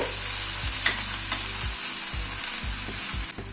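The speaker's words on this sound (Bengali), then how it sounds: "গ্যাসের ফ্লেমটাকে হাই করে দিয়ে পেঁয়াজটাকে ভেজে নেব, পেঁয়াজের বেরেস্তা বানিয়ে নেব" Sliced onions frying on a high gas flame for crisp birista, a loud continuous hiss with several spatula stirs, and a low hum that rises and drops in steps in the background, no voices.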